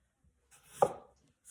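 A knife slicing through a raw potato on a cutting board while prepping tortilla española, a single soft crisp cut with a brief thud, close and quiet, with no talk.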